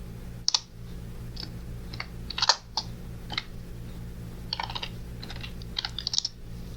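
Typing on a computer keyboard while writing a shell script, with irregular bursts of close, crisp key clicks over a steady low hum.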